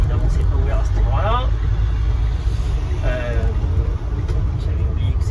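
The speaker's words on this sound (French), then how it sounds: "On va faire demi-tour parce que évidemment c'est pas ouvert à cet endroit-là." A Citroën Ami electric car turning around on a Paris street gives off a low, steady rumble and hum from the car and surrounding traffic while someone talks throughout.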